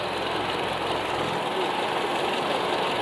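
A used car's engine runs at a car market in Riyadh, Saudi Arabia, giving a steady, close mechanical idle with a broad, even rumble and no clear speech over it.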